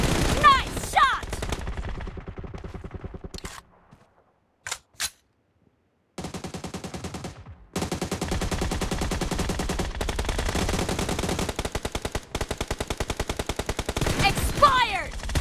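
Rapid automatic gunfire from an online arena shooter game, long sustained bursts of fast shots with brief gaps and a quiet pause, loud and close, with announcer voice callouts.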